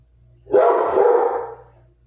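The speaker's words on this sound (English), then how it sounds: "Sorry for all the distractions, puppies, dogs, and everything" A dog gives a single loud, drawn-out bark lasting about a second against a quiet room, with a low hum before and after.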